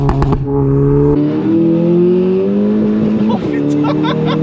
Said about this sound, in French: Le bruit de la ligne Micta qui est vraiment joli.